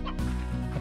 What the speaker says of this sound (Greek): Οι κότες μας είναι καλά, τρώνε.